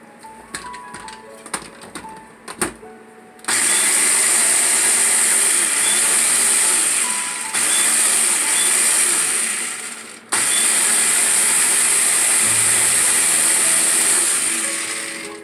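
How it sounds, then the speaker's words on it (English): A countertop blender whirs loudly through roasted red pepper hummus in two long continuous runs, separated by a brief pause, after a few short clinks and knocks at the start. "now we're going to go ahead and we're going to blend this again until it's nice and smooth and creamy"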